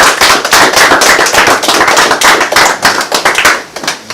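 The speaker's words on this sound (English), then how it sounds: "Give Almighty God hand clap praise" Loud, dense hand clapping from a congregation at a Sabbath worship service, many hands striking rapidly and continuously with crackling sharp claps close to the microphone.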